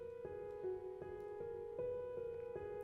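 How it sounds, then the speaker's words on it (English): Two pianos playing separate repeating parts, one on each side, quiet steady notes struck at a regular pace with sustained tones and some low notes underneath. "There's like a piano on the left and a piano on the right"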